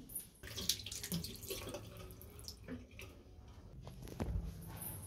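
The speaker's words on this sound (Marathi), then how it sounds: "हात धुते आणि तुम्हाला दाखवते मी." Tap water runs steadily into a sink while hands are washed, with small splashes and drips over a continuous flowing hiss, close by and moderately quiet.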